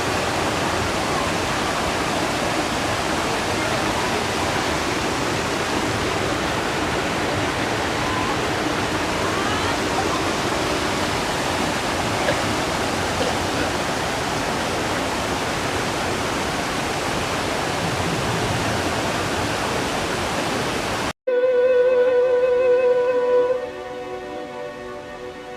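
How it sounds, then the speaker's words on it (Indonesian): The Cihanyawar river stream flows in a steady, loud rush of water for most of the stretch, then cuts abruptly to a brief different, quieter scene near the end. "Alir Sungai Cihanyawar."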